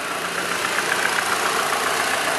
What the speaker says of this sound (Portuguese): só aquela batidinha de tucho normal do Chevrolet, né? Mas bem pouquinho